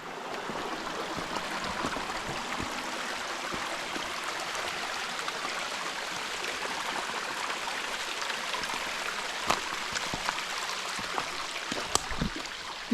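Water of a stream flowing through the Peračica gorge near Brezje, a steady broadband rush with no speech, holding even and continuous throughout, with a few faint clicks near the end.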